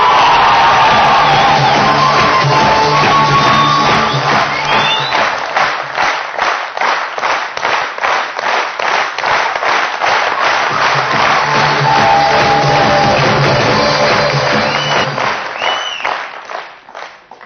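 A large seminar audience applauds loudly and steadily, with scattered cheers and whoops rising above the clapping before it fades toward the end.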